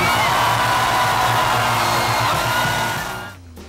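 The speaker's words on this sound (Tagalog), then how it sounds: "Hiyawan naman syempre ang audience" A concert audience at the MTV Music Evolution Concert 2015 cheers and screams in a loud, continuous roar of whoops and yells that holds steady before tapering off at the end.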